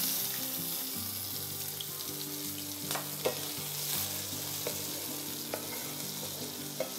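Chopped onion sizzles steadily in hot oil with fennel seeds and garam masala powder, a continuous close frying hiss with faint stirring clicks and no voices.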